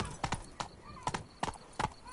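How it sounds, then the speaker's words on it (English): Horse hooves pound in a quick galloping rhythm in The Witcher 3 video game, four clustered bursts of hoofbeats spaced through a couple of seconds, fairly close and clear with no talking. "Run, Roach."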